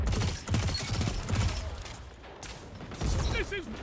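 Pulse rifle bursts from Destiny, loud and close, firing in quick repeated volleys with a brief lull midway, mixed with game effects and chimes.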